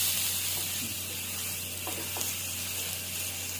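An adai dosa fries on a hot pan with a steady, close hiss of sizzling, broken by a couple of soft scraping taps as it is flipped.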